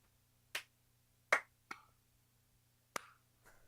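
A few people clap in sparse, separate sharp claps, five distinct hits spread unevenly over a quiet room background.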